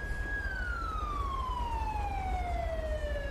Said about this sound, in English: Let me go ahead and turn my sirens off because, good lord, that's loud and annoying.